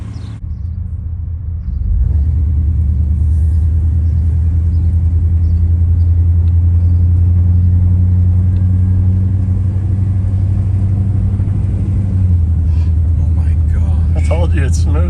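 A 1989 Chevrolet Suburban rescued from a junkyard pulls away on its first drive, its engine rising into a steady low rumble and drone heard from inside the cab, with faint voices under it.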